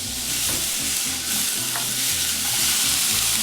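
Onions sautéing in olive oil in a frying pan, a steady close sizzle with a stirring scrape, with red and green bell pepper also on the heat; continuous and fairly loud, no talking.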